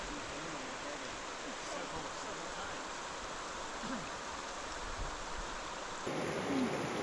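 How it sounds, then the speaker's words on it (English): The Brazo River flowing at a peaceful backcountry rest stop, a soft, steady rushing wash of water that runs without a break, faint and fairly distant. "we took a nice peaceful break along the beautiful Brazo River"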